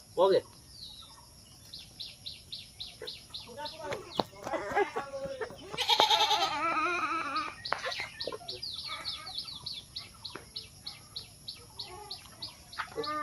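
A goat bleats loudly near the middle, among many rapid bird chirps and some talking in the background.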